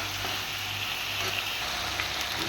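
Garlic paste and chicken stir-fry in a pan for chicken kosa, giving a soft continuous sizzle and hiss at low level, with no voices.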